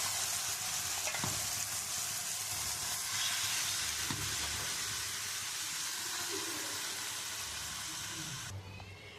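Marinated chicken sizzles in a kadai, a broad hiss with intermittent stirring scrapes and clinks, fairly close and continuous, fading slightly at the end.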